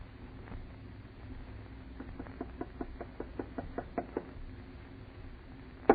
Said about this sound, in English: Knock harder, Alice.